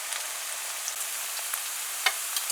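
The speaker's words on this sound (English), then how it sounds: "And we're just going to fry this for a little bit at first." Chopped onion fries in hot oil in a pot for a Guyanese chicken curry, giving a steady, close hiss of sizzling with a few faint pops and a light stir. No one speaks.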